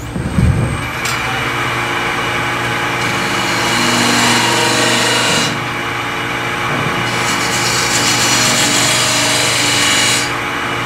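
Wood lathe spinning steadily as a skew chisel cuts beads, a loud continuous whirring hiss with scraping tool contact that swells and eases in long stretches, no talk.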